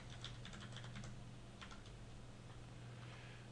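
Quick, faint clicking taps on a computer keyboard as an email address is typed, a short burst of keystrokes over a low steady hum, with no speech.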